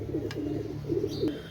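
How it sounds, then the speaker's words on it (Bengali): A pair of pure-bred pigeons, one male and one female, coo softly and close by, with a couple of short low throaty coos in quick succession. "কবুতর পেয়ারটা দেখেন ভাই"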